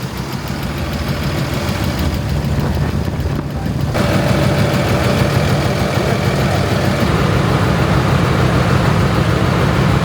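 A tractor engine idling close by with an odd knocking noise, a dense, steady mechanical rumble that runs unbroken throughout, with no one talking.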